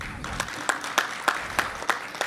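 Applause from an audience at a Marathi poetry gathering at MGM University, Aurangabad: a short burst of fairly close claps in an even rhythm.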